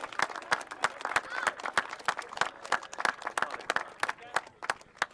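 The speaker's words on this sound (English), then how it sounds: "Please, big round of applause for Rob." Audience at a grasstrack racing meeting gives a rider a round of applause, with sharp, irregular hand claps close by and crowd murmur underneath, and a voice speaking over the clapping.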